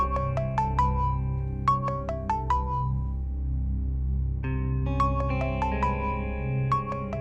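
A phone rings with an incoming call, playing a repeating melodic ringtone of bright tonal notes in two phrases, close and clear and heard alone without talk over it.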